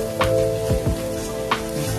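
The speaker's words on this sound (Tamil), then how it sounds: "இப்போ முட்டையை மட்டும் தனியா கிளறி விட்டுக்கோங்க. முட்டை நல்லா பொரிஞ்சு வரணும்." Egg sizzling and frying in a pan while being stirred for egg noodles, a steady close crackle with a few brief spatula scrapes, no talking.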